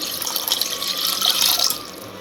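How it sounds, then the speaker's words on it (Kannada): Water runs from a tap into a pot being filled for steaming homemade purple cabbage momos, a steady hissing splash that swells slightly before tapering off. "2-3 ಕಪ್ಪಷ್ಟು ನೀರು ಹಾಕ್ಕೊಂಡಿದ್ದೇನೆ"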